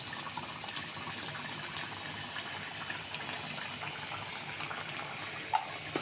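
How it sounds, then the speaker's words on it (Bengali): Roasted cumin is washed under running water in a home kitchen, a steady close wash of flowing, splashing water lasting throughout with no speech. "এখন আমি বাজা জিরে ধুয়ে দেবো।"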